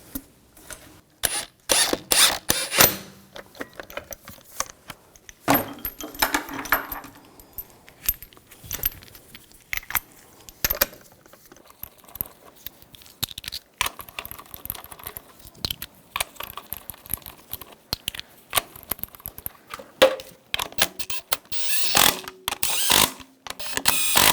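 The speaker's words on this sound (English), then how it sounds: "put the lug bolts in, get those started" Lug bolts being threaded by hand into a front wheel on a 2000-2006 BMW X5, metallic clinks, rattles and bursts of ratcheting in irregular clusters separated by quiet gaps, close up with no speech.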